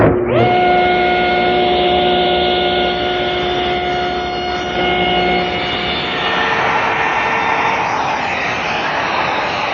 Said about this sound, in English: It's the easiest way to square up the bottom of these panels.